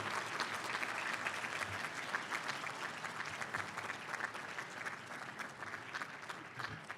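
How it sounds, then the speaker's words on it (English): Graduating students in industrial and systems engineering, operations research and engineering management applaud their family and friends at a spring commencement, a steady, full crowd clapping that continues evenly for several seconds. "give them a round of applause for all their support they gave you"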